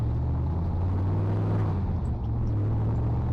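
Ford F100 truck accelerating in first gear, a loud, steady low engine rumble from inside the cab that holds throughout with little change.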